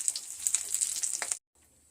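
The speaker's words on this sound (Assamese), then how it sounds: "ফ্ৰাই কৰি আছোঁ" Fish fries in a hot pan with a close, crackling sizzle and scattered pops, then cuts off abruptly to near silence before a fainter sizzle resumes.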